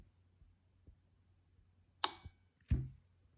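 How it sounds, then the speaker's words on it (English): An internal relay inside a Hulkman Alpha 85 jump starter clicks into its ready state, a couple of crisp close clicks followed by a duller thunk, sharp and isolated against near silence. "I think you could hear the relay clicking"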